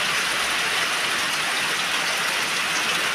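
Steady rain pours onto an outdoor terrace, a dense, even hiss of drops with no pauses, loud and continuous throughout.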